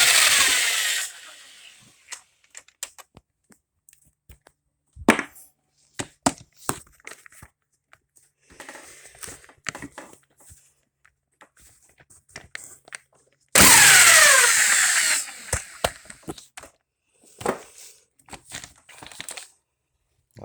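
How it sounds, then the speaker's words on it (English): Bursts of a pneumatic impact wrench remove bolts from an RF1A gear-drive transfer case during teardown, in short loud whirring zaps separated by quiet gaps and clinks of handling. "So I'm gonna go ahead and zap out all of these bolts real quick."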